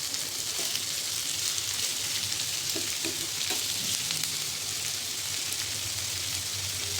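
An onion roasts on an old dosa tawa over a gas flame, crackling and sizzling steadily up close with occasional small pops, no speech.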